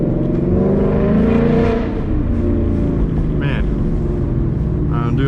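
A Ford Mustang GT engine revs hard in second gear, its loud throaty roar climbing steadily and then holding in a dense rumble, while someone talks over it.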